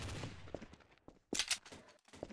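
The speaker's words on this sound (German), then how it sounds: "Ein einzelner Schuss." Gunfire in the video game Trouble in Terrorist Town crackles in short bursts, with a loud cluster of shots in the middle, amid game noise and some background clatter.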